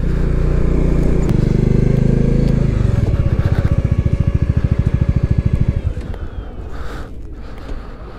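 A motorcycle engine chugs and throbs close by with a rapid pulsing beat at the high mountain Bumla Pass in Arunachal Pradesh, then eases off as wind and other vehicle noise take over.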